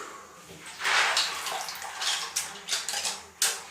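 Bulk Lego bricks rinsed by hand in a basin of water, with repeated sloshing splashes and faint plastic clatter in irregular bursts, close by with no talk.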